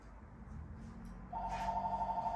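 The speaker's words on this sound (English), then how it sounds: "this phone rings a lot too" A telephone in a barbershop starts ringing partway through with a steady, warbling electronic trill over a low room hum, fairly quiet and with no talking.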